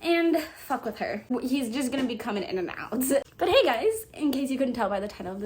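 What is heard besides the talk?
No everyday noise stands out behind the speech.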